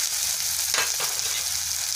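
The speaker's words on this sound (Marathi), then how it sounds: "आता ह्याच्यात तेल टाकते, ह्याच्यात मसाला टाकते," Okra sizzles in hot oil with masala in a pan on a wood-fired village stove, a steady close crackling hiss with a brief stirring scrape partway through and no talking.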